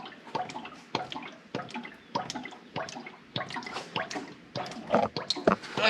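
Hydraulic oil from a Workmaster 25 tractor draining into a pan, heard as a close series of irregular splashing drips and gurgles that arrive roughly every half second, fairly quiet, with no talking.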